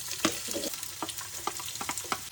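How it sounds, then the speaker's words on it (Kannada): Onions and green chilies hitting hot oil with curry leaves in a pan, a soft close sizzle with a few sharp stirring taps and scrapes, fairly quiet and with no talk. "ಕರಿಬೇವು ಹಾಕೊಂಡ ತಕ್ಷಣ ನಾನು ಇದ್ರೊಳಗಡೆ ಈರುಳ್ಳಿ ಮತ್ತು ಮೆಣಸಿನ್ಕಾಯಿನ ಹಾಕೊಳ್ತೀನಿ"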